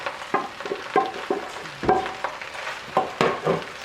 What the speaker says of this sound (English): It's because you want to sear the rice.